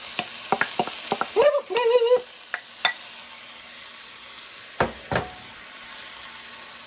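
Meat stir-fried in a pan for bami goreng, heard as a low steady sizzle broken by a quick run of scraping, clattering stirs with a squeaky utensil, then two more sharp scrapes.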